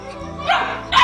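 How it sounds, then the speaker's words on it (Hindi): A dog barks in two short, sharp bursts close by, with faint whimpering tones between them and no talking. "ये बहुत ज़्यादा भौंकने लगी थी"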